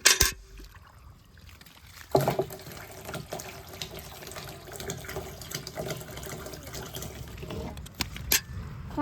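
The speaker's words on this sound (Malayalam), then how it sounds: "റയാൻ വെള്ളം ഒഴിക്കുന്നുണ്ടോ?" Water splashes and pours outdoors, a continuous gush with irregular sloshing bursts, fairly near and moderately loud.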